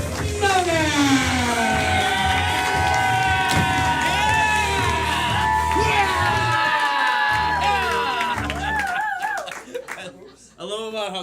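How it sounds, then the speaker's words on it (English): A live event crowd claps, cheers and whoops loudly and continuously as the host is welcomed to the stage, the noise holding steady before thinning near the end. "Put those hands together. Let's start clapping. And let's make some noise."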